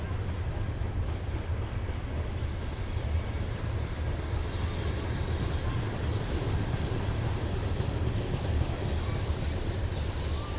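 A train rumbles past near Arlington, Virginia, a steady loud roar with broadband clatter that holds throughout without voices.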